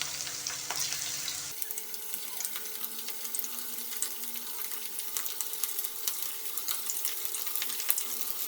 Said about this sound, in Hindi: हम इसमें चिकन के पीसेस डालते जाएंगे और इसे अच्छी तरह से फ्राई कर लेंगे